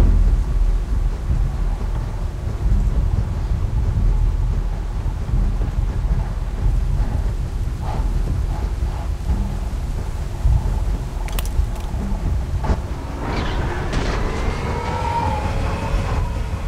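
A thunderstorm with steady rain and a low rumbling roar, wind buffeting throughout, and a rising mechanical whine emerging near the end.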